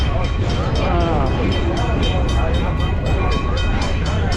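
A vintage train in Sacramento, California rumbles steadily along the rails with rhythmic clicking and a constant low roar, heard from on board as someone talks over it.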